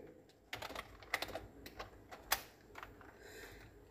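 Typing on a computer keyboard while writing HTML head and title tags, with quiet irregular key clicks and a few sharper presses, no voice.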